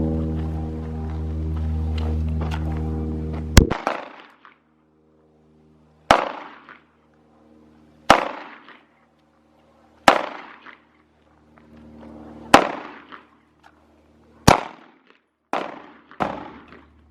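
A Glock 19 Gen 5 pistol fires about eight sharp single shots at a range, spaced a second or two apart with short echoing decays; a low hum runs in the first few seconds.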